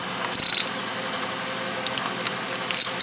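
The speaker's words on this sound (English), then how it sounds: "do the rest with the wrench." A ratchet wrench tightens a spark plug, producing short bursts of rapid clicking, one near the start and two more toward the end, loud and close.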